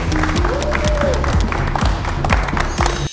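A studio audience applauding on a family game show, a loud, dense burst of clapping that carries throughout, with music playing underneath it.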